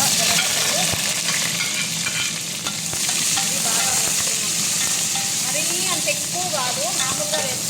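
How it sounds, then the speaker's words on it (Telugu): Mustard seeds splutter in hot oil with a bright continuous sizzle and crackle, while a person talks over it. "ప్రస్తుతానికి అయితే ఆవాలు చిట్టుపట్లాడిన తర్వాత"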